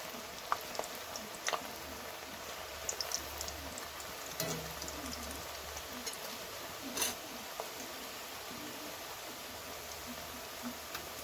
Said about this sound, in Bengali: এবারে তেলের মধ্যে দিয়ে একটু ভেজে